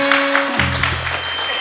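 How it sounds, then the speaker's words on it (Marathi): Audience clapping in rhythm during a Marathi kirtan, a steady run of sharp claps filling the hall, with a sustained tone beneath. "जरा जोरात वाजवा की टाळ्या."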